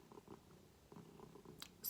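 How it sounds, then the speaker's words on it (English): A cat purrs softly and close up in a short, faint rhythmic rumble with a brief noise at the end. "purring away if you hear the purrs"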